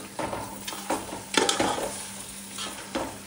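Tomatoes are stirred into frying dhaba-style chicken masala, making a steady sizzle with several scraping spatula strokes and a louder clatter midway, recorded close and free of talk.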